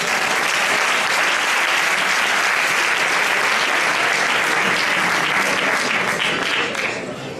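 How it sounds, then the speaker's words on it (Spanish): Audience applause rings out at the final of a flamenco singing contest in Leganés, a loud, dense, steady wall of clapping from a large crowd that holds for several seconds, then eases slightly at the end. "Un aplauso para él."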